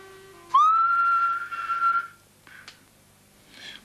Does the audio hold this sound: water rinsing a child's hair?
no